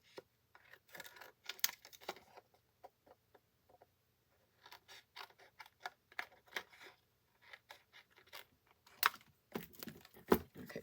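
Scissors snip through paper in a series of short, crisp cuts with brief pauses between them, close and fairly quiet.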